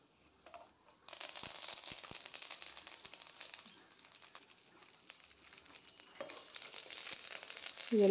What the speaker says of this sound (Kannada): ಸೊ ಇದೆಲ್ಲ ಬ್ರೌನಿಷ್ ಆಗೋವರೆಗೂ ಫ್ರೈ ಮಾಡ್ಕೊಳ್ಳಿ